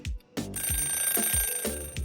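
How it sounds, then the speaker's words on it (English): A kitchen timer goes off with a repeating ring, a quick series of evenly spaced bursts sounding clearly and alone in a kitchen during dinner preparation. "When the timer goes off, we can plate the chicken."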